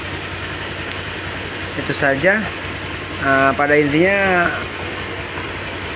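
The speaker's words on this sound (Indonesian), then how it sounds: "motor ini udah bisa hidup kembali" A Honda Vario 125 scooter idles steadily in the background after a repair to corroded socket wiring, a low continuous hum running beneath someone talking.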